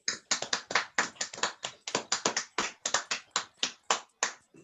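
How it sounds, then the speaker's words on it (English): Close, fairly quiet clapping from only a few hands at a Rotary Burns Night, each crisp clap distinct in a quick, uneven rhythm that carries on for several seconds. "with a wee bit of applause"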